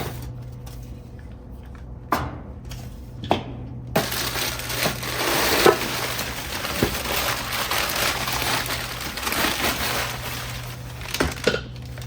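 Paper-wrapped glass items and other belongings being handled inside a storage bin during Subaru Outback car camping, with long crinkling rustles of paper, occasional sharp knocks and clinks, and a steady low hum underneath.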